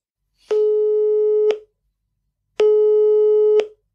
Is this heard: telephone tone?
yes